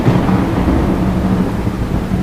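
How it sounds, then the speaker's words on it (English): A thunderstorm roars close and loud with a continuous deep rumble of thunder and heavy rain, steady for the whole stretch with no voices. "This storm is crazy"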